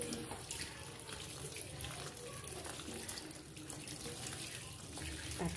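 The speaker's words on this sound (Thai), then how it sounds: "การล้างขาเห็ด" Tap water runs steadily into a sink while mushroom stems are washed, a continuous close splashing hiss with a faint voice underneath.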